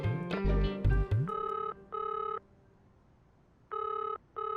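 A telephone rings in a comedy drama scene with an electronic trill in short repeated bursts and pauses between, following a few louder hits at the start.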